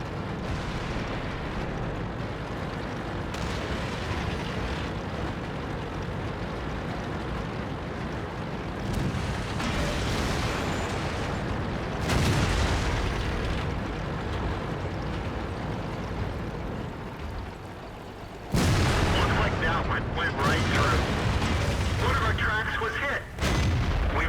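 Artillery shell explosions in the World of Tanks video game, heavy booming blasts rolling over a constant loud battle rumble, with a sharp burst near the middle and another strong impact toward the end.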